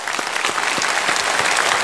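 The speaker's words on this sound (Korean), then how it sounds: "우리 박수로 축하합시다" A congregation claps together during a Sunday church service, a brief, loud burst of dense applause with a few distinct sharp claps standing out.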